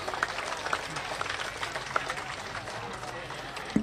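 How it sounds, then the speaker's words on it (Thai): Audience at a Thai gathering applauding, a steady wash of clapping running throughout with a few sharper claps standing out, mixed with crowd murmur and voices. "ขอเสียงปรบมือดังๆอีกครั้งนะคะ"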